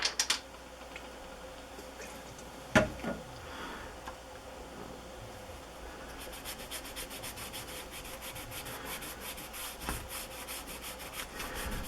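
A soft cotton cloth damp with rubbing alcohol scrubs back and forth over the circuit board of a Nintendo NES game cartridge, a quiet, steady rubbing with one brief knock partway through and a faster, busier scrubbing toward the end.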